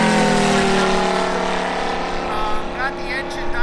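A large 111-inch TopRc T-28 Trojan composite RC model airplane runs its engine with a steady, loud droning hum that holds fairly constant, with a voice briefly heard near the end.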